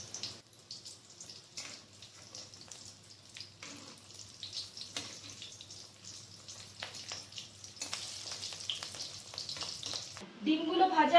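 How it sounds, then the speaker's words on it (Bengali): Fish roe fritters fry quietly in oil with a soft, close crackle and scattered small pops. Brief clattering and a louder burst come near the end. "মাছের ডিমের বড়াগুলোকে আমি 2-5টা উল্টে পাল্টে ভেজে নেব।"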